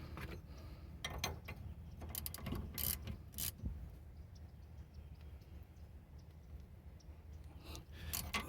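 A ratchet snugs down a rear brake caliper bolt on a Honda Accord, a series of close, quiet clicking bursts with brief pauses between strokes.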